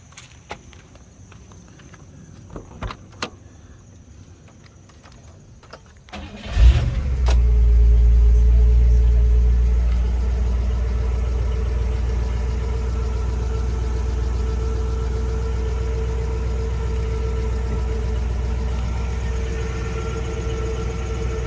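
After some faint clicks and shuffling, the engine of a 1957 Oldsmobile 88 Holiday Golden Rocket cranks and catches with a loud roar, then settles into a steady, deep idle rumble.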